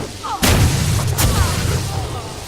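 A homing missile explodes in the fantasy game Lichdom: Battlemage: one sudden loud boom with a brief second burst and a rumbling tail that lingers.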